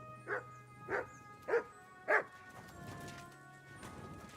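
Mutt, a dog in Kingdom Come: Deliverance II, gives four evenly spaced barks close by, followed by a softer muffled whine over a quiet game ambience.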